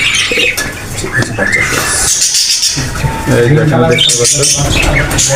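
Many birds in a rural aviary chirp and call continuously and loudly, a busy chorus of tweets and coos close by, with someone talking over them throughout.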